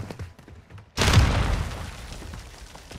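A flashbang detonation in Call of Duty: Modern Warfare II hits suddenly after a quiet moment, one loud burst that fades into a lingering ringing wash.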